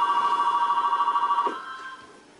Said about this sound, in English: Like most people, a ringing phone for Sandra Ortiz means it's time to get to w